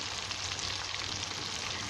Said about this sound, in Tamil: அடுத்த பேட்ச் பொரிஞ்சிட்ருக்கு